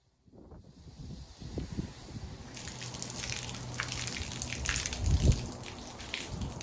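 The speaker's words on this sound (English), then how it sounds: "And hopefully doing it this way helps to feed all the water out of the nozzle at the open end." Water gushes and splashes out of the open end of a 100-foot retractable garden hose nozzle outdoors, starting faint and building to a steady, moderately loud rushing flow.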